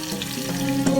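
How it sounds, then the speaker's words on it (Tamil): Sliced onions frying in hot groundnut oil with cinnamon, cloves and cardamom, a close, continuous crackling sizzle heard alone for a moment. "பட்டை, கிராம்பு, ஏலக்காய் அதை தாளிச்சிட்டு நறுக்கி வச்சுருக்கிற பெரிய வெங்காயத்தை போட்டுடலாம்"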